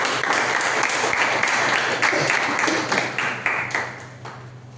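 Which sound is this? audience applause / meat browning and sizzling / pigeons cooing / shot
audience applause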